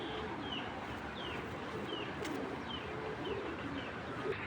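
A female racing pigeon gives soft, repeated coos, faint and somewhat distant, over a steady hiss of background noise.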